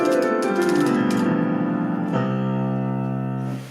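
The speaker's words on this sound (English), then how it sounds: "This is called an octave glissando" Piano octave glissando, both hands sweeping octaves rapidly down the keys in a fast cascade, then a sustained ringing chord that decays, loud and close with no talking.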